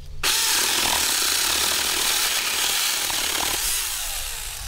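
A Huing mini chainsaw, a small 110/240-volt electric model, cuts through a 4x4 piece of lumber with a loud, close, continuous buzzing rasp that starts abruptly and holds steady for several seconds before easing slightly.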